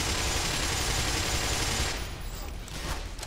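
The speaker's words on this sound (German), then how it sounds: "Wo schießen die her?" Dense, continuous gunfire from the video game Black Mesa fills the first two seconds, loud and close, then thins into a quieter spread of scattered shots and rumble.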